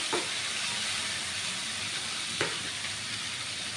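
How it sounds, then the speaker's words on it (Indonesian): Chili peppers and roa fish frying together in oil for sambal roa, a steady close sizzle and hiss running throughout with brief stirring scrapes. "Jadi seperti ini penampakan cabenya yang kita goreng, cabai roa ya."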